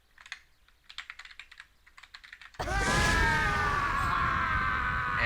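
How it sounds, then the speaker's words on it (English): Bursts of rapid, close keystrokes on a PC keyboard as a game cheat code is typed, then an abrupt loud, sustained burst of game sound with a wailing, scream-like tone takes over. "The next code I'm going to type is"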